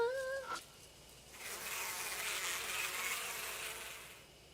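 Bees buzz around a beehive in the horror game Spirit Hunter: Death Mark, a soft, continuous insect drone that swells and lingers after a short tonal game chime, faint and without talking.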